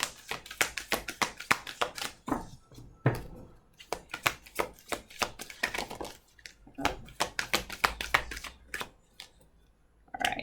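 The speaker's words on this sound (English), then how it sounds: "I'm gonna give it 3 good shuffles here." Rapid crisp riffling and tapping of tarot cards in several bursts, close and fairly quiet, with short pauses between shuffles.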